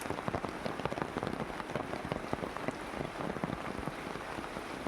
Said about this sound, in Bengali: গাছের পাতার ওপর বৃষ্টির জল এসে পড়ছে